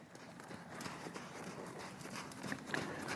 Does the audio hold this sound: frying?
no